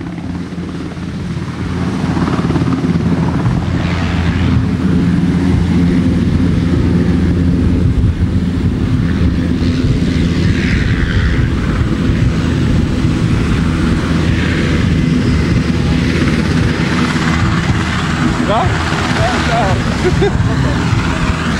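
A helicopter flies low over an outdoor liberation festival site where fences were blown over, giving a loud continuous rotor roar and buffeting wind noise for about twenty seconds.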